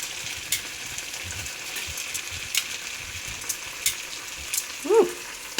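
Cooked linguine tipped into a hot pan with garlic shrimp and kale, giving a steady broadband sizzle with a few brief clatters and stirring knocks near and moderately loud.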